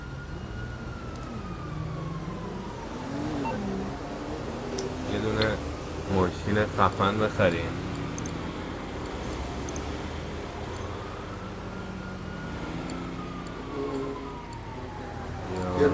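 Emergency siren wailing from a car in GTA V, rising and falling sweeps that repeat steadily, with a burst of clicks and beeps in the middle while someone talks over it.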